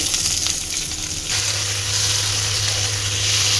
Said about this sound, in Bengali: আলু দিয়ে পেঁয়াজ দিয়ে টমেটো দিয়ে একসাথেই সব কষাবো